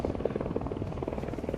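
A helicopter filming Cunard's three Queens liners on the Mersey at Liverpool gives a steady rotor throb with fast rhythmic chopping, loud and continuous and heard without talk.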